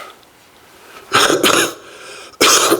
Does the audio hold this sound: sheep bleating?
no